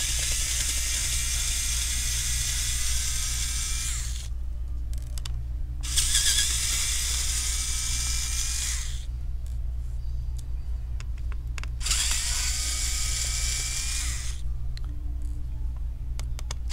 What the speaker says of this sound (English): let's go ahead and unscrew the